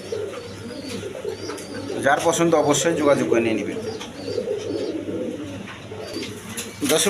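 A pair of young High Flying Giribaz pigeons coo softly in a bird seller's stall, a gentle repeated burbling heard close, while someone talks over them.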